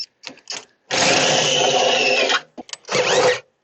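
A drill bores through a tough steel commercial panel: a few short stuttering bursts, one long sustained grinding whir, then another brief burst, all loud and close with no voices.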